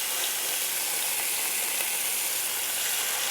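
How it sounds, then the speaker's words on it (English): Short ribs sear in a hot oiled skillet, giving a steady, dense sizzle that stays loud and even throughout with no voices. "You want to press down to make sure they're making good surface area contact with the skillet"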